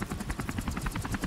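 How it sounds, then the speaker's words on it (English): Helicopter in Call of Duty Modern Warfare Remastered, a fast steady rotor thump pulsing loud and close throughout, no talk. "get to the chopper!"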